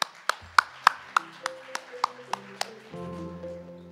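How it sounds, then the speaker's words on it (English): Scattered applause for conference panelists at a live tech event, about ten separate sharp claps spaced across the first few seconds, then fading out as a sustained tone and low murmur take over. "let's give one more round of applause to our awesome panelists"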